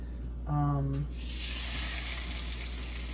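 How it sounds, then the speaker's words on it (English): Salmon pan-sautéing in heated olive oil, a close, steady sizzling hiss that swells after a brief voiced tone and then holds evenly. "we're just gonna do a quick pan saute of this salmon"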